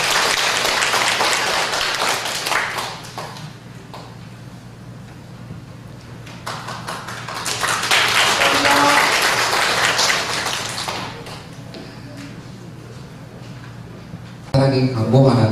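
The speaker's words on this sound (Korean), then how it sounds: "박수 부탁드립니다" Audience applause at a Korean church service marking an appointment to an advisory committee of a unification movement association, a sustained wash of clapping that swells and fades, with a voice speaking near the end.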